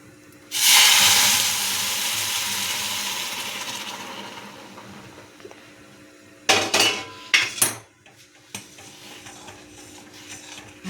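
Hot milk for vermicelli kheer pours into a pot with a loud rushing hiss that gradually fades. Several sharp metal clinks of a spoon stirring against the pot follow, then quieter scraping.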